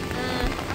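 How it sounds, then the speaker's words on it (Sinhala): Rain falls steadily in misty hill country at Ramboda, Sri Lanka, a brief dense patter on surfaces with no voices. "දැන් හොඳටම වහිනවා"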